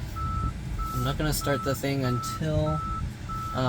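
Tesla Model Y, a 2022 Long Range, backing up with its reverse warning beeps: steady evenly spaced tones repeating throughout, close and clear, while someone talks over them.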